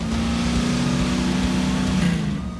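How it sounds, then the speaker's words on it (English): A car engine revs steadily on a dark, empty rural road at night, a continuous loud mid-pitched drone holding throughout with a slight rise near the end. "An engine is revving."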